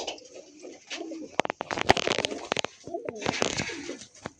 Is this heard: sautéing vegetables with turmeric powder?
no